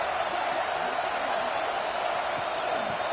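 Stadium crowd noise from an NCAA 26 college football video game, Michigan State at Texas A&M, a steady broad roar on a big third down that runs unbroken throughout.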